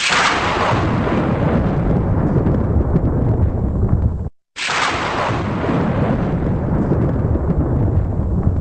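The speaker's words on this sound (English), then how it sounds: "Kind of nice to hear the thunder going out occasionally." A thunder sound effect plays on a radio broadcast: two long, loud rumbling rolls with a brief silent gap between them, heard alone.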